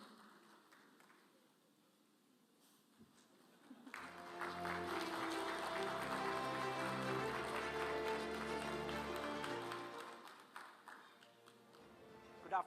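An audience at an international seminar breaks into loud, sustained applause to welcome speakers on stage. The clapping swells from a quiet room and runs for several seconds before fading back to near silence.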